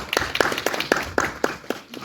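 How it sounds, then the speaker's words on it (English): An audience gives a steady round of applause at a leadership talk, about eight evenly spaced claps that sound sparse and moderately close, like a small group rather than a large crowd. "can you just give yourself a round of applause?"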